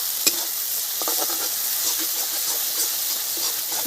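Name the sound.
masala spice paste frying and being stirred for prawn curry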